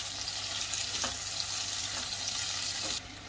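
Tomatoes, ginger and chili fry in a pan with a steady loud sizzle, a few soft scrapes of a spoon stirring through it, the hiss dropping off sharply near the end.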